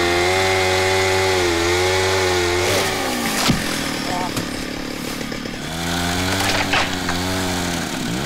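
A power saw cuts wood in a jungle village, its engine revving high and steady, dropping off briefly in the middle and then revving again, loud and close with a voice heard faintly beneath.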